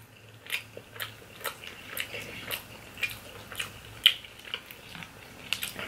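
Close-up chewing of cheesy lasagna pasta during a mukbang, with soft wet bites and smacks recurring roughly every half second over a quiet background.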